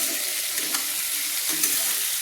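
Onions and potatoes fry together in a pan over a medium flame, giving a steady, even sizzle with a few faint stirring scrapes.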